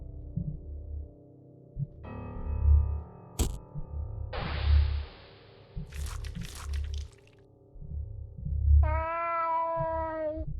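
Pocket Cat from the video game Fear & Hunger gives a short, clear meow near the end, after squishy, crunching game effects over a slow, throbbing low pulse.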